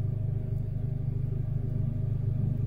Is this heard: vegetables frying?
no